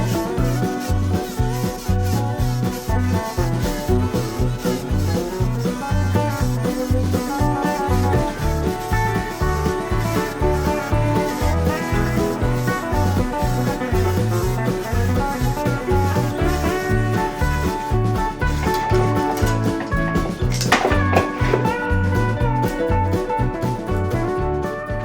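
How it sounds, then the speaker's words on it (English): A Dremel rotary tool grinds across the teeth of a chainsaw chain in a steady, rhythmic run of rasping passes, loud and close, with no talk. "I'm going to go through one more time real quick with the Dremel"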